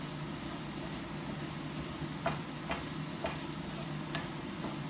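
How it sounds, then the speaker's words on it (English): Eggs fry in a pan under a low, steady sizzle and a constant hum. A few soft, evenly spaced scrapes from stirring come through faintly. "Stir the shit up."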